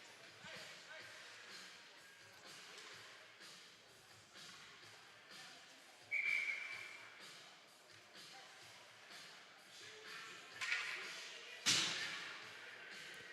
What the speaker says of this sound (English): and we'll get a whistle